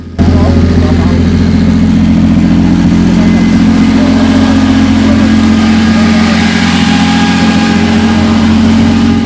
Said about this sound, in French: Alors c'est une voiture anglaise, purement anglaise, une Panther Calista.